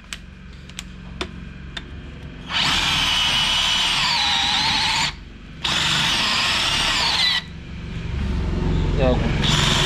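A DeWalt cordless drill set to plain drilling runs in two long, loud whirring bursts of a few seconds each, with a short pause between them and quiet handling noise before and after.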